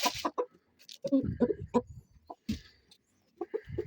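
Roosters cluck in short, irregular bursts close by in a coop or yard, with brief pauses between calls and a faint voice or two in the background.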